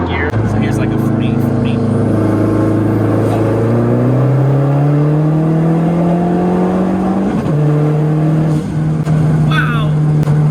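A Mazdaspeed 3 pulls a third-gear roll from around 40 mph, its engine note climbing steadily and loudly from inside the cabin with one brief dip, a continuous strong drone throughout.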